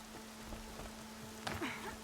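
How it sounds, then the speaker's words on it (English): Steady, soft rain falls in Horizon Zero Dawn, a continuous gentle hiss with a faint low hum underneath and a brief louder splash near the end. "Raining like it's trying to wash everything away."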